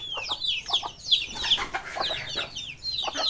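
Chickens kept outdoors cluck and chirp in quick, overlapping bursts, close by and fairly soft, with no voices.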